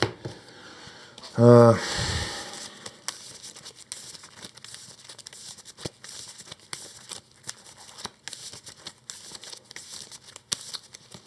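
A deck of cards for the Earthborne Rangers board game gets a quick shuffle: one short, crisp riffling burst near the start, then a quiet room with faint rustles and small handling noises.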